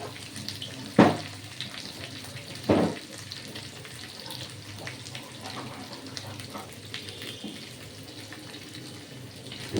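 Chopped ginger fries in a pan, a soft steady sizzle with a couple of louder clatters of a spoon or pan near the start.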